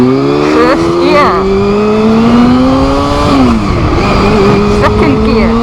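A Volvo car engine accelerates hard in first gear, its rising whine climbing steadily, then dipping briefly before climbing again, loud and close throughout.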